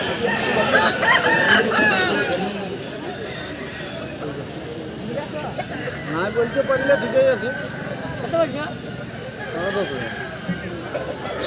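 Roosters and hens at a busy rural chicken market, with clucking and crowing-like calls under several people talking nearby.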